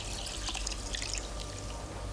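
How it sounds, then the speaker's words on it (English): Water dripping from a valve onto the propeller of a water clock, soft patters and trickling over a steady low hum, faint and continuous with no voices. "The water drips slowly from this valve and onto this propeller, making it turn."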